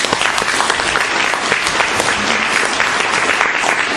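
A seminar audience gives loud, sustained applause at a real estate finance industry event, dense and continuous clapping with crisp individual hand strikes throughout.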